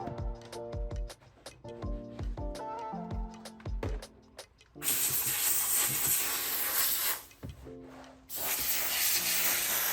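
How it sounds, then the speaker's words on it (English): A few seconds of clattering, knocking sounds give way to loud, harsh bursts of steam hissing close by from a portable Bissell steam cleaner on a car interior, cutting off briefly before resuming. "I'm using a Bissell Sure Shot steam cannon or steam gun"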